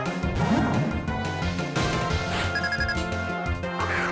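Phone ringtone from the Pokémon Black video game, a short chiming electronic ring over busy game music and battle sound effects.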